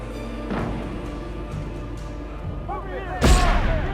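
Gunfire in the video game Alan Wake, a few heavy booming shots with a loud blast near the end over a rumbling game background, with someone talking faintly.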